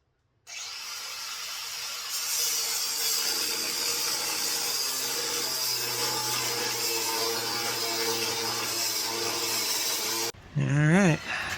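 Grinder cutting on a Silverado truck, a loud continuous high-pitched whine and grinding that runs steadily for about ten seconds, then stops as a voice speaks.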